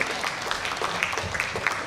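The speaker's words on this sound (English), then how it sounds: "give a big applause to Ibu Arti and then Reo" Audience applause at the close of a plenary panel discussion, steady dense clapping throughout at moderate level with no talk over it.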